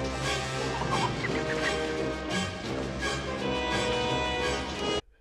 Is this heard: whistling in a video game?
no